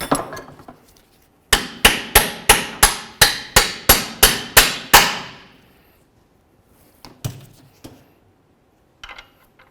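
A punch struck repeatedly with a hammer to drive a bolt through a front lower control arm on a 1998-2012 Ford Crown Victoria: about ten sharp, evenly spaced metallic blows, loud and close, then a few scattered lighter taps.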